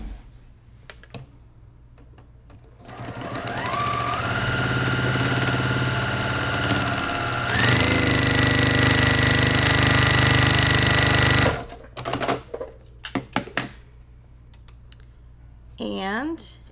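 A sewing machine stitches a quarter inch seam on a scrappy tablerunner, a loud close whirring run of about nine seconds that briefly slows and then speeds up again, followed by scattered handling clicks and a voice speaking.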